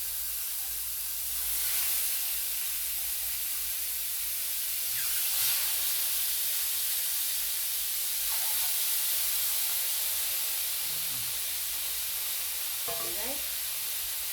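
Fish sizzles as it grills in a frying pan lightly coated with cooking oil, a steady hiss of frying carrying through the whole stretch, with a few brief clinks and soft knocks and a short spoken phrase at the start.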